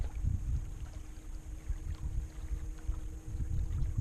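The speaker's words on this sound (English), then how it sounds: "I definitely hear another boat" A motorboat drones at a distance across open water on Fellows Lake in Springfield, Missouri, low and rumbling, with wind buffeting the microphone throughout.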